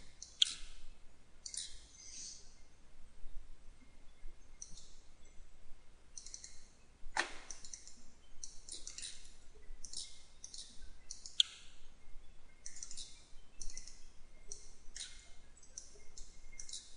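A computer mouse clicks repeatedly, crisp close taps arriving in irregular bursts over quiet room tone, with no voices.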